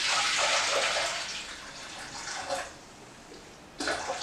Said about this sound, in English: So with the water there, so I'm going to pour a little bit of that.